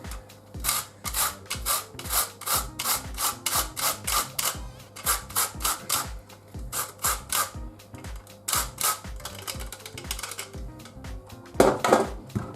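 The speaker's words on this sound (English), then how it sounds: "we're just going to grate a little bit of lemon, put some lemon rind in it also." Lemon rind grated for a high-protein lemon cheesecake topping: quick, evenly paced rasping strokes against a metal grater, close and crisp, in bursts with brief pauses and a louder scrape near the end, no talking.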